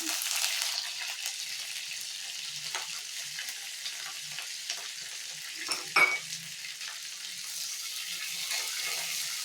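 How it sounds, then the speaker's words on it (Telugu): Tempering spices and curry leaves frying in oil for amla roti pachadi, a faint steady hiss of frying with occasional stirring knocks and a brief clatter near the middle, no voices. "ఇప్పుడు ఇవన్నీ వేగినాయి కదా, తాలింపు దినుసులు కూడా కరివేపాకు వేసేసుకున్నాము."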